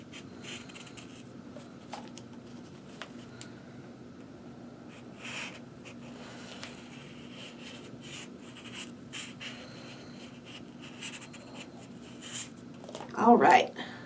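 A marker tracing two circles around a cup onto felt for a pencil topper craft, a soft continuous scratchy rubbing that is quiet and close, with a louder brief burst near the end.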